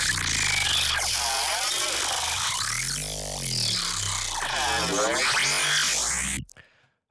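A self-generating dubstep synth patch built in FL Studio growls and wobbles loudly with sweeping, warbling tones for several seconds before cutting off abruptly into silence.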